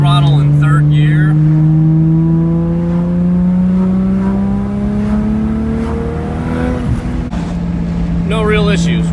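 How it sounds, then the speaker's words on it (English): A Toyota Supra with a 1JZ engine accelerates in third gear, its loud, close engine tone rising smoothly in pitch for several seconds. A voice talks over it briefly. "If I roll into throttle in third gear"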